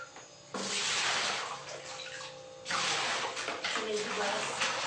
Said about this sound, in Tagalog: ito paglalagyan ko nito ng tubig